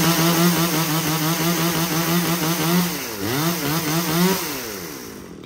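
A Japanese-market chainsaw, a top-range model in a lot including STIHL, ECHO, Makita, Hitachi and Tanaka saws, idles and revs loudly nearby with a steady buzzing two-stroke drone, its pitch dipping and rising around the middle before easing off.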